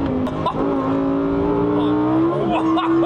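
Lamborghini Huracan Tecnica on a race track, its engine and exhaust holding a steady deep drone with a rising harmonic tone as it pulls, close and loud, with excited voices talking over it.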